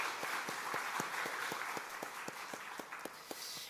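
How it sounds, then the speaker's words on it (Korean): A Korean church congregation claps in unison to encourage the worship team, with sharp, evenly spaced beats at a steady rhythm over a softer background wash of scattered hands. "우리 박수로 다시 한번 격려하겠습니다"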